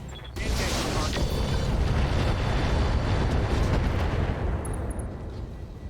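Heavy mech weapons fire in the BattleTech-based game RogueTech, pouring into a Godzilla mech as a loud, continuous barrage of booms and blasts that holds steady for several seconds.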